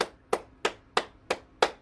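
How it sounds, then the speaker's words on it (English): Six crisp hand claps ring out at an even, measured pace with short gaps of quiet between them during a morning bouncing exercise session, close and clear with no talking. "And clap your hands."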